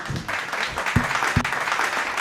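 Audience applause at a Kanda Sashti festival poetry recital in Devakottai, a steady wash of clapping that fills the whole moment, with a couple of sharper low thumps near the middle.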